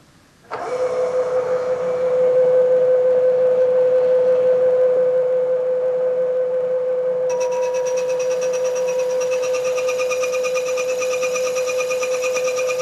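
A milling machine takes a light cutting pass of about twenty thousandths of an inch on a part locked in a vise. A steady motor whine starts abruptly, then a brighter, buzzing cutting tone joins partway through and holds to the end.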